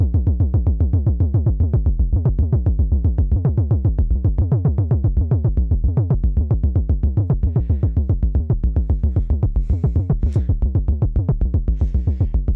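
A drum loop played through a Vermona Perfourmer synthesizer, its pitch jumping unpredictably under a sample-and-hold LFO, pulses in a dense, steady rhythm throughout with no speech.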